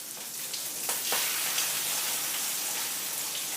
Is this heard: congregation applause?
no